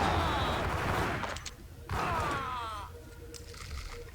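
Gunfire in the game Max Payne, several dense bursts of shots with echoing tails in two main volleys, loud and close, with no talk over it.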